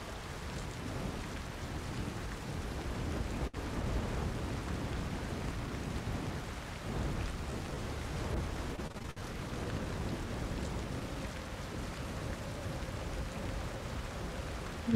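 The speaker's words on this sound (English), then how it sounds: "It started raining." Rain falling on a beach, a steady dense hiss and patter that lasts throughout, with no voices over it.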